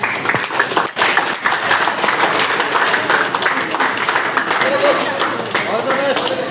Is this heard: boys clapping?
yes